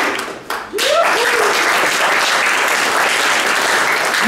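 A poetry slam crowd at Leeszaal West in Rotterdam breaks into loud, sustained applause for the announced finalists, with a few whoops rising over dense, steady clapping after a brief start.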